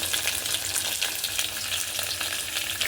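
Curry leaves hit hot oil in a tempering with mustard seeds, cumin and dried chillies, giving a loud, dense sizzle with rapid spitting crackles that stays close and steady.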